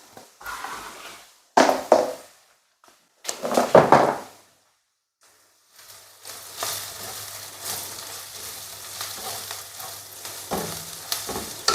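Potatoes and a small red pepper fry in a pan, with a few short bursts of sizzling and stirring, then a steady, close, crackling sizzle that continues to the end.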